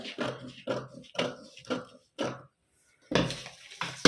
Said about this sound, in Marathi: त्यानंतर आपल्याला कटोरी जी आहे ती कटोरी कट करून घ्यायची